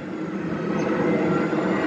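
An airplane passing overhead outdoors, a steady broadband roar that builds slightly louder over two seconds, with no talking.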